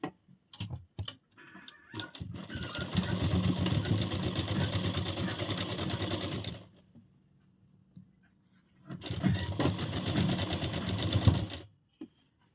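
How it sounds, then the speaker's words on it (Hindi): A sewing machine stitches a broad-neck blouse in two close, rapid runs of steady mechanical chatter, about four and three seconds long, separated by a quiet pause with light fabric handling. "और यहाँ से अब सिलाई शुरू करते हैं।"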